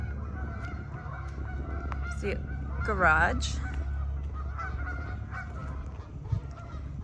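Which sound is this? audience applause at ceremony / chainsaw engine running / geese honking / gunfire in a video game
geese honking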